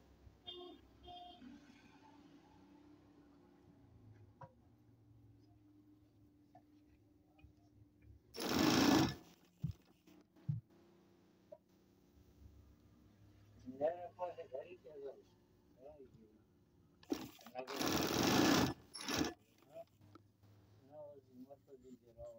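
A sewing machine stitches a garment sleeve in two loud whirring runs, separated by quieter stretches where someone speaks and fabric rustles.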